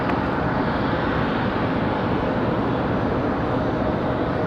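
An airplane takes off from runway 23 left at Raleigh-Durham airport, a steady loud roar of jet engines with broadband rumble holding throughout and no talk.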